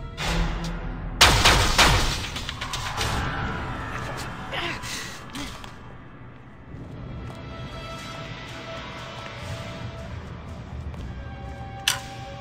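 Gunfire in the space game Freelancer, a loud burst of shots early on that fades into a steady hum, with a single sharp shot near the end.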